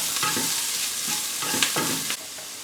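Fenugreek leaves and curry powder sizzle in a pan for a restaurant-style chicken balti, a close constant frying hiss broken by several scraping stirs of the spoon.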